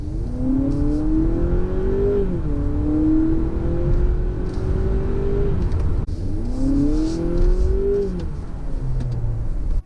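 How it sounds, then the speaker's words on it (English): A 2024 Honda Accord Hybrid in sport mode pipes an artificial engine note into the cabin, a loud droning hum that rises in pitch, drops as if shifting, then climbs again over steady road rumble. "the fake engine noise that you get when you put the car in sport mode"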